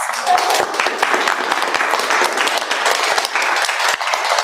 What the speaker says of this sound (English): You all deserve a round of applause